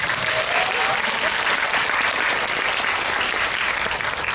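An audience at a Korean film talk event for the movie Byeonsan claps together in sustained applause. The loud, dense clapping fills the room evenly from start to finish, with no pause.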